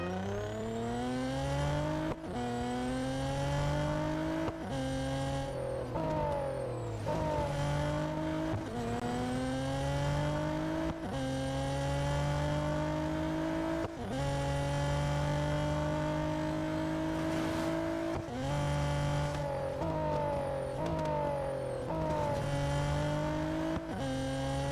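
A racing car engine in Real Racing 3 revs hard through repeated gear changes, each climb in pitch cut by a short drop as it shifts, loud and continuous with no talk.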